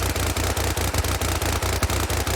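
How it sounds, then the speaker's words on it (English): An American 180 submachine gun fires one unbroken, very rapid burst in Fallout 4. The shots hammer out in a fast, even rattle, loud and close, with no pauses. "It sounds like the weapon's breaking. That's how fast it's shooting though."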